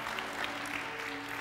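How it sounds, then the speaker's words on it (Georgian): A talent show studio audience applauds young contestant Ana, a steady, fairly quiet patter of many hands with a faint tonal hum underneath. "ტაში ხალხო, ტაში უსურვოთ ანას"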